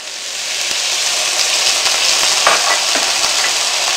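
A steady, loud sizzle and bubbling hiss from a tempeh stir-fry in a hot pan right after a little water is poured in, continuous and close with faint stirring scrapes.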